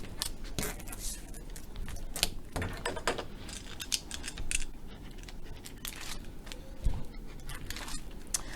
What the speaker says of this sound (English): we're going to adhere that on with some double-sided tape